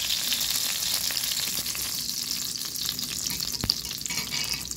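Butter sizzles and fries steadily in a hot pan with leftover rice, a dense continuous crackle with occasional sharper pops, close and moderately loud.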